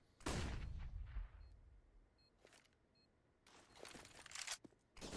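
Rifle spray in a Counter-Strike match on Vertigo at IEM Beijing 2020: several rapid, sharp bursts of automatic fire with short gaps between, fairly quiet overall and no commentary.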